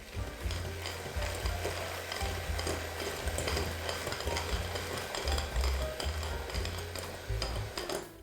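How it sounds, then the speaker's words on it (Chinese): An electric egg beater whips egg whites with a few drops of white vinegar or lemon juice for a persimmon cake. The buzzing whir is close and constant, with a scraping hiss, and no one speaks. "接着取来打蛋器，先开低速旋转起来，防止材料飞溅，然后开高速持续打发到中性发泡。"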